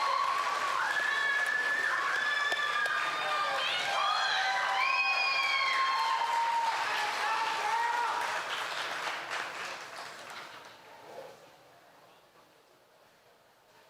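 An audience applauds and cheers for the 2025-2026 Choctaw Nation royalty at the Choctaw Nation Princess Pageant, with dense clapping and high shouts and whoops that gradually fade out to near silence.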